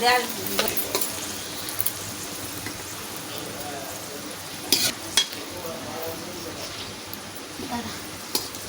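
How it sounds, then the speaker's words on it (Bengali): New potatoes frying in hot oil with whole cumin, bay leaves and dried red chillies, a steady close sizzle broken by a few sharp stirring clinks of a utensil against the pan. "হালকা করে লাল লাল করে ভেজে নিচ্ছি গোটা জিরে তেজপাতা গোটা শুকনো লঙ্কা"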